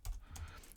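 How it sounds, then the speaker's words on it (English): Quick keystrokes on a computer keyboard while entering an SQL insert command, a few close, light clicks in a brief burst. "so you can just simply type something like insert into employees"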